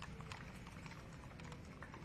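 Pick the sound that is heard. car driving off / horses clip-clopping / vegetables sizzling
horses clip-clopping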